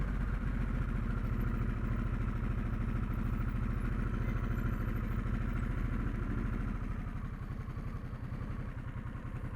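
A 2022 Harley-Davidson Sportster S idles in traffic, a loud, close, steady rhythmic engine throb that loosens slightly toward the end.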